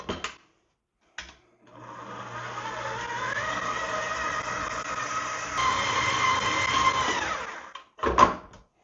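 A Magic Mill mixer churns sourdough dough with a steady motor whir lasting several seconds, rising slightly in pitch before cutting off, with brief clunks at the start and end.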